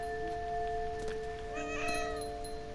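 A cat meows in the video game What Remains of Edith Finch: a short, moderately close cry heard once over a sustained tonal game ambience.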